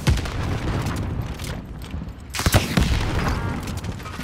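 Loud, close gunfire and booms in Call of Duty: Modern Warfare, with rapid bursts and a heavy blast partway through, then renewed shooting. Continuous and dense, with no voice on top.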